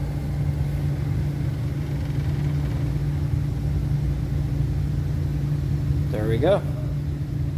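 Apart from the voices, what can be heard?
three-phase motor running in forward direction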